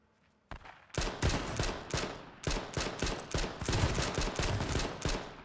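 Gunfire in the H1Z1 video game, with pistol fire from a player on a pistol rampage: rapid, loud bursts of shots crack one after another in quick succession after a brief quiet start.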